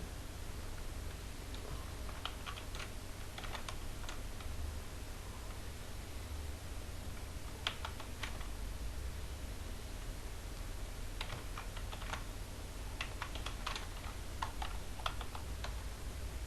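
Quiet computer keyboard typing in bursts of quick key clicks, separated by pauses, over a steady low hum and hiss in a room, no talking.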